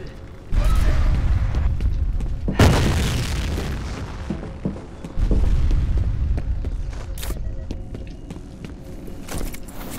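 A grenade goes off in the shooter game FEAR with a loud, deep boom, followed by a rumbling tail and a second heavy blast a few seconds later amid clanks and footsteps, with no speech.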